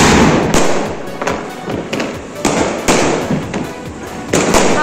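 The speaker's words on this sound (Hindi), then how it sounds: "देखो मैं आप सबको पटाखे फूटते फूटते दिखता हूँ" Diwali firecrackers burst outdoors in a rapid, irregular series of loud, close bangs and crackles, with several sharp blasts standing out over a continuous crackling wash.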